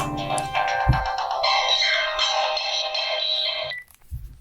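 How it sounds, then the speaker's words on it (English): An electronic phone ringtone plays a steady warbling melody for a few seconds, then cuts off abruptly, with a couple of soft thumps. "The phone is ringing"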